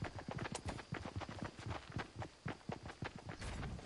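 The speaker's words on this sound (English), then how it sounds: "I hear so many footsteps" Rapid footsteps in the video game Fortnite, a quick, irregular run of close thudding steps that continues without a break for a few seconds.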